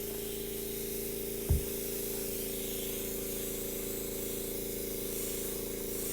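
An airbrush sprays alcohol inks in a steady, soft hiss with a low background hum and one brief bump near the start, heard up close.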